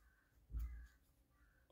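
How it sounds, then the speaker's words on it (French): Crows caw outdoors in spring, one loud burst near the middle standing out over faint background cawing and a low rumble. "Oh, les corbeaux, je sais pas si vous les entendez"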